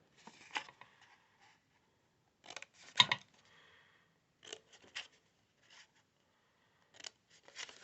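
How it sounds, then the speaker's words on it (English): Scissors cut card stock along score lines for a small pentagon paper box, with quiet, sparse snips and rustles of paper in short separated bursts against near silence. "we're going to cut up from all these square lines at the bottom to the horizontal first square line"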